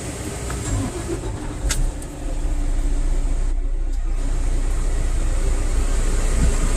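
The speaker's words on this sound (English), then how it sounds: "now I'm gonna start the truck" A Prime Inc semi truck's diesel engine cranking and catching, then settling into a loud, steady rumbling idle close by.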